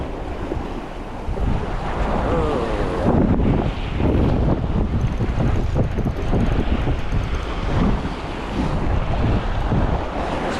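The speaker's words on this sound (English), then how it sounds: "And it's very windy." Strong, gusty wind roars and buffets the microphone continuously on a fishing dock in Bermuda, with surf rumbling underneath throughout.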